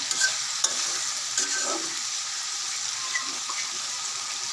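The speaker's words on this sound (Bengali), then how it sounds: "এখন আমরা ডাকনা খুলে নেব আর একটু নাড়াচাড়া দিয়ে দিব যাতে লেগে না যায়" A pot of mola fish curry with snake gourd sizzles steadily as it is stirred, with soft scraping taps over a constant close frying hiss and no voices.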